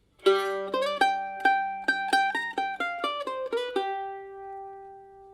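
A mandolin picks a quick melodic run of bright plucked notes from a bluegrass tune, ending on a ringing held note that fades out.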